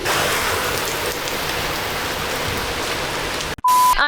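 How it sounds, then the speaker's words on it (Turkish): Steady, heavy rain pours down in a dense, continuous hiss, cut off near the end by a brief dropout and a short electronic beep. "Ya nasıl yağmur yağıyor ve hava nasıl bu kadar çabuk değişebiliyor."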